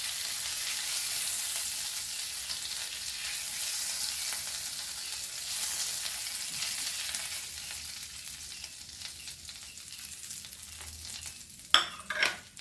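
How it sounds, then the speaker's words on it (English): Goan prawns coated in recheado masala fry on a low flame in oil, giving a steady close sizzle with a brief clatter near the end. "Fry this on low flame. Same oil."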